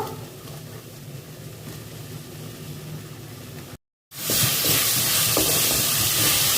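Spice paste for prawn malai curry sizzles and crackles steadily in a pan, with a brief gap before a louder, brighter burst of frying hiss.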